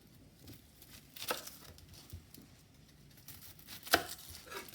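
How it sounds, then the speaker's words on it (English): An onion is chopped with a knife for a caramelized onion sauce to go with pan-sautéed pork chops: a few faint, scattered cuts and taps on a board, with one sharper knock near the end and no talk. "While it's cooking, looks like we cut up some onion."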